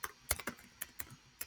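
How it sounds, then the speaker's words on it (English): Quick typing on a computer keyboard, a handful of sharp, irregular clicks and taps at close range with quiet gaps between them. "typing too fast."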